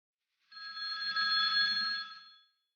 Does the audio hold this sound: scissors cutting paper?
no